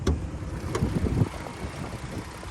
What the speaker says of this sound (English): Motor runs very quiet.